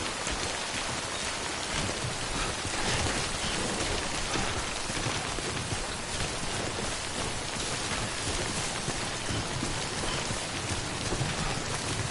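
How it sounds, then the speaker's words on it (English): Steady, dense rain of timefall pouring down in the video game Death Stranding, a constant loud hiss of drops on surfaces with no breaks and no talking. "Don't stay out in the rain any longer than you have to."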